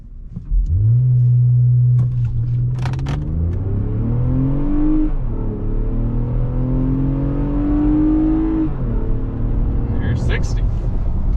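A 2022 Lexus RX 350 engine rises in pitch as it accelerates under way, drops briefly as a gear changes, then climbs again, a loud steady drone from inside the cabin with brief sounds over it.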